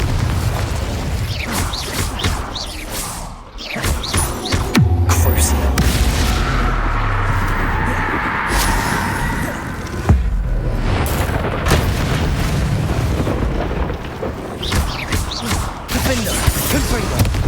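Spell blasts of Incendio and Confringo in Hogwarts Legacy, a run of booming, explosive bursts and pops amid combat noise, with a voice calling out over the impacts.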